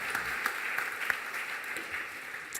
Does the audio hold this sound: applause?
yes